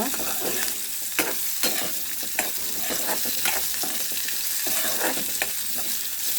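Curry leaves and turmeric sizzle steadily in hot oil for a brinjal curry, a dense continuous frying hiss broken by scattered sharp crackles and occasional stirring clinks, close and loud without any talk.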